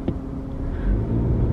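A car rolls past on the road in a low, steady rumble that swells slightly toward the end, close by with no voices.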